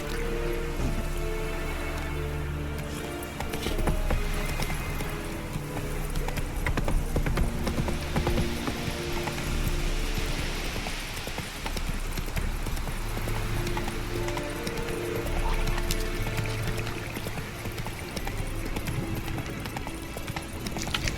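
Roach, the horse in The Witcher 3, trots with a steady, close clip-clop of hooves, joined by an occasional whinny and a soft bed of rain, running the whole time without speech.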